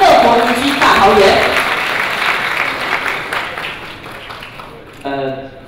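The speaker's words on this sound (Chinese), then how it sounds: "来掌声欢迎郑文灿郑市长乐活宜居大桃园" Applause rises as Taoyuan Mayor Cheng Wen-tsan is welcomed at a business federation members' assembly and anniversary event, a dense roomful of clapping holding steady for several seconds, then fading as music or a voice comes up at the end.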